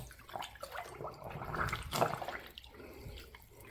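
A sponge is dunked and swished in a bucket of Optimum No Rinse rinseless wash water, giving close, soft sloshing and dripping splashes that churn unevenly for a few seconds without any speech.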